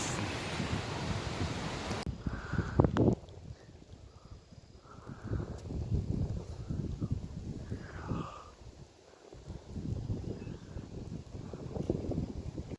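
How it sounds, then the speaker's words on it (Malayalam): Strong wind gusting across an open hillside, a loud broadband roar at first that drops back after a few seconds to steady rushing and buffeting with swells and lulls. "മഴ കുറവാണ്, കാറ്റ് ഭയങ്കരമാണ്."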